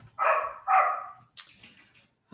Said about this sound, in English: Excuse the many dogs in the background,